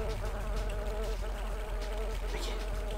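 Dragonflies in the Daikatana video game give off a continuous, droning insect buzz with a steady hum, loud and close, running without a break under faint game ambience.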